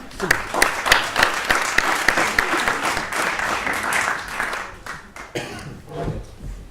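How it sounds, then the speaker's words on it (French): An audience at a talk on managerial innovation claps in sustained applause, loud and dense at first, then thinning out and fading toward the end as a few scattered claps and movement remain. "Merci d'applaudir Alexandre Gérard."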